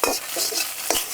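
Egg omelette pieces being stirred and roasted in a pan for street-style egg chicken fried rice: a steady sizzle with two quick scraping stirs, one at the start and one near the end, close and fairly loud.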